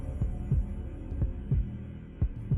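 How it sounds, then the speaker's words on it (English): A slow, muffled heartbeat thumps in paired lub-dub beats over a low hum, repeating steadily through a horror tale. "The drums were inside him, pounding with the rhythm of his own heartbeats."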